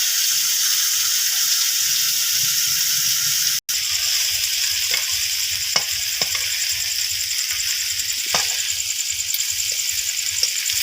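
Salted, turmeric-coated shrimp frying in hot oil for a spicy prawn curry: a steady, close sizzle with scattered stirring clicks, briefly cut near the start and then resuming just as strongly.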